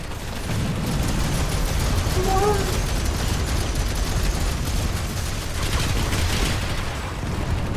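Planetside 2 gunfire: dense, continuous rattling shots crackling through a steady noisy battle din, with a brief voice-like tone partway through.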